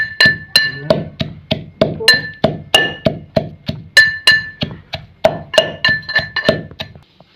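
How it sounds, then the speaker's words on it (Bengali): Dried churi shutki fish, Chittagong style, pounded by hand for a fish and green chili mash: a steady run of about twenty sharp, close thuds with clinking overtones, evenly spaced and loud, with no talking. "দিয়ে দেব শুটকি মাছগুলো এখানে দিয়ে দিলাম। এগুলো ছেঁচে নিতে হবে।"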